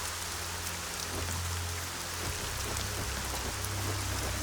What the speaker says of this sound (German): Und es war der Regen.